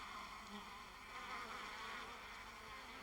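A buzzing mass of honeybees crawling over a wooden hive frame, a steady dense hum of many wings filling the sound close up without pause.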